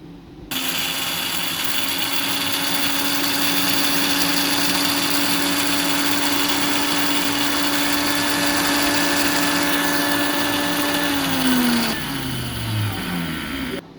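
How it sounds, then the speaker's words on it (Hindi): An electric spice grinder coarsely grinds cumin, fennel and fenugreek seeds, a loud steady high-pitched motor whine with rattling seeds that runs for about eleven seconds, then winds down in a falling tone as it stops. "अब हम इनको थोड़ा सा दरदरा सा हम इसको कर लेंगे, मशीन से डालेंगे"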